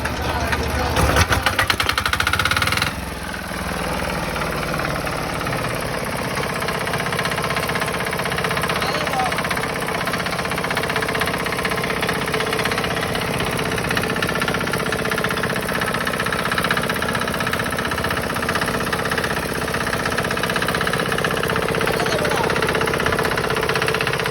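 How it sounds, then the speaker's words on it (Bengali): Second-hand 4 HP diesel engine starting with a sharp burst, then running steadily with a loud, even mechanical chatter and knock for the rest of the stretch, close by. "ইঞ্জিনটা আপনাদেরকে স্টার্ট দিয়ে দেখাই তাহলে আপনারা বুঝতে পারবেন যে কি অবস্থায় আছে"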